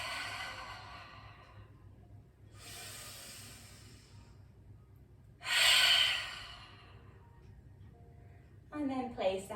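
Breath flows in and out during a seated yoga class, with slow breathy exhales repeating at a calm pace. A voice briefly joins near the end.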